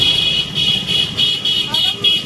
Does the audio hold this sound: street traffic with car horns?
yes